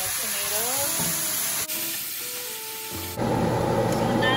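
Garlic and chorizo sausage sauteing in a pan, a broad hiss and sizzle that shifts in intensity and swells loudly near the end, with some talk over it.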